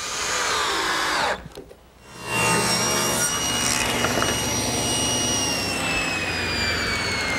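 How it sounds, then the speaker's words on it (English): Power driver sinking 1¼-inch galvanized screws into gazebo roof framing wood, a loud steady whirring drive broken by a short pause before the next screw runs in, with no talking. "I want to secure the pieces together with some 1¼-inch galvanized screws"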